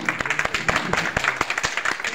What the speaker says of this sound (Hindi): बढ़िया ताली बजा दे अम्मा के लिए।